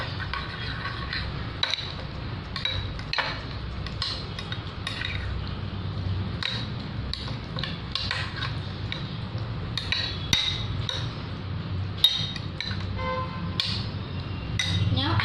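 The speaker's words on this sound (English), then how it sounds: "Now I am mixing it well" Ingredients with curd being mixed in a bowl: repeated clinks and scrapes of a utensil against the dish, steady and close, with a voice talking throughout.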